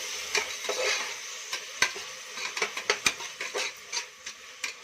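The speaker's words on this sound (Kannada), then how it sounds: "ಟೊಮೊಟೊ ಕೂಡ ಚೆನ್ನಾಗಿ ಫ್ರೈ ಆಗಲಿ" Tomato and turmeric fry in a pan while a spoon stirs briskly, producing a series of close clinks and scrapes over a soft, continuous sizzle.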